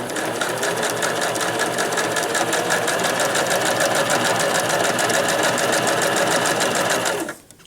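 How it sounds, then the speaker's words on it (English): A sewing machine stitching a Kleenex cozy runs continuously at a fast, even rhythmic clatter, loud and close, then stops abruptly near the end. "Now you're going to sew all the way to the end."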